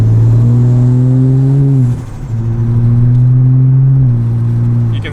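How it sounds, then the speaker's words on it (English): A Mercedes C43 with a twin-turbo six-cylinder engine revs loudly and close by, holding a steady droning pitch, dipping briefly as it shifts around midway, then climbing back to a sustained drone. "C43, that's a 6-cylinder turbo"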